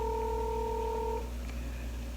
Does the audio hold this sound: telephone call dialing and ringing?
yes